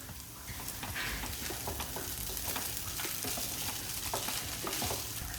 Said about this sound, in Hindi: इसको अप्रॉक्सीमेटली लो फ्लेम में हम लोग 3 से 4 मिनट हल्का हल्का घुमा के हम लोग पकने देंगे